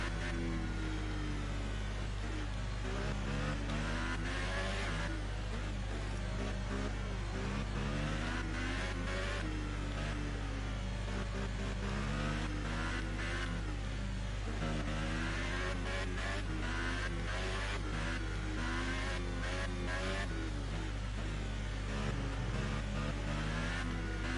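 Formula One cars in the F1 2018 racing game at Abu Dhabi rev hard at the race start, a dense, loud sustained engine roar with wavering pitch and a steady low drone running throughout.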